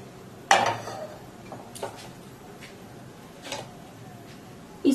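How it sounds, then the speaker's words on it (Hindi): A gas stove being switched on to cook badam suji halwa: one sharp igniter click near the start, followed by a few fainter clicks spread out over a quiet kitchen background, with no talking. "पहले गैस ऑन कर लेते हैं।"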